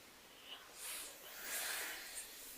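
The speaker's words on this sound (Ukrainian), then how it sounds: "А тепер вдих і два видиха." Breathing exercise during a vocal warm-up: one faint airy inhale followed by two soft, hissing exhales, quiet and close, with no talk.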